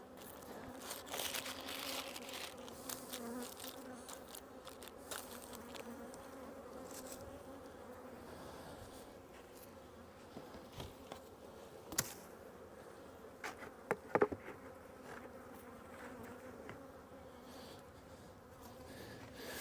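Honeybees buzz in a steady, low drone around open hives during a spring inspection, with occasional closer passes, faint knocks and crunching of frames handled nearby.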